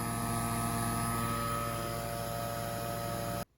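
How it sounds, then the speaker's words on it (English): A small vacuum pump, used to bleed the brakes on a Datsun 280ZX, drones with a steady, even motor hum close by for several seconds, then cuts off abruptly. "I know those vacuum pumps really aren't made for that"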